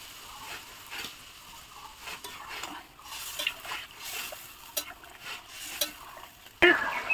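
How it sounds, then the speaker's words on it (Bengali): Jackfruit curry stir-fried in a pot over a wood fire, with a steady soft sizzle broken by scraping stirs and clicks of the utensil, and a louder clatter near the end. "এবার আমি ইঁচড়টা ভালো করে কষিয়ে নেবো"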